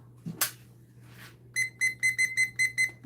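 A kitchen timer being set while bread dough rises: a few soft presses and rustles, then a quick run of about eight bright electronic beeps in a steady rhythm, close and clear.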